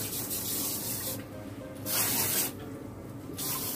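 A handheld cloth diaper sprayer blasts water onto a soiled diaper over a toilet, a steady close hissing spray that surges in bursts with brief softer dips between.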